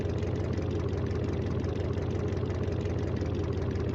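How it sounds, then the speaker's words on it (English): An unmuffled V8 idles in the BeamNG.drive driving game, a low, throaty, steady rumble that holds evenly throughout at moderate volume with no speech over it. "it's a big throaty V8"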